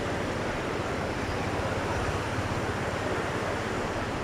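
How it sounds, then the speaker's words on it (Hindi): Floodwater on a high-running river at a headworks rushes in a steady, dense broadband roar with no breaks, loud and continuous. "पानी की शिद्दत आप देख सकते हैं कि किस तरह"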